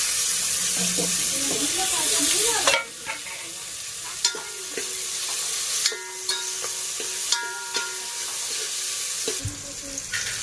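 Onion, tomatoes and chillies fry in a pan over a steady sizzle, with repeated sharp scrapes and clinks of a spoon stirring against the metal in a home kitchen.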